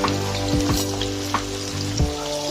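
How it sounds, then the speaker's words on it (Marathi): Shrimps fry in a pan over high gas heat, giving a steady close sizzle broken by a few quick scraping stirs, alone without any talk. "मी याच्यामध्ये अशा थोड्या कोळंब्या टाकून घेणार आहे आणि त्या फ्राय करणार आहे।"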